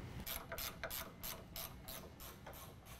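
Close ratchet clicks in quick repeated bursts as a factory nut on the drag link of a Dodge Ram 2500 is tightened during a 5.5-inch suspension lift install, faint and alone, with no voices.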